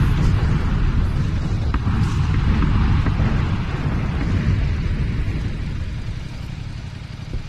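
Bombing run in PUBG, a dense wall of low rumbling explosions and booms rolling continuously for the whole stretch, loud and heavy with no clear gaps between blasts.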